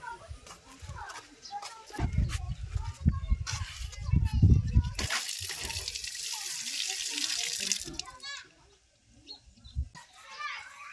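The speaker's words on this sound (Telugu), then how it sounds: "ఇప్పుడు కుళాయిలో పైప్ ఫిక్స్ చేద్దాం" Water gushes from a tap through a hose pipe fitted for washing a power tiller, a loud steady rush in the middle stretch, with children's voices and other people talking around it.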